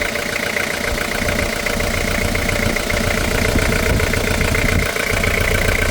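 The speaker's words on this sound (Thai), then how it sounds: "นี่คือการทำงานของเครื่องยนต์ เครื่องดีนะครับ" A Toyota Mighty pickup's diesel engine idles steadily up close, a loud, continuous rumble with a rough knocking texture and no pauses.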